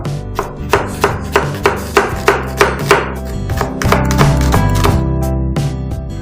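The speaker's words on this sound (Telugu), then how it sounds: "ఉల్లిపాయను కూడా సన్నగా తరిగి వంట స్టార్ట్ చేసేద్దాం" An onion is finely chopped on a board, with crisp, evenly spaced knife strokes that quicken into a faster, blurred run, all set against steady background music.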